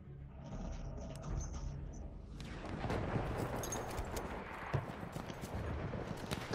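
Battlefield 1 multiplayer battle in the Argonne Forest: after a quieter opening, dense gunfire and explosions break out at a distance and keep going as a continuous rattling barrage, with one sharper crack standing out.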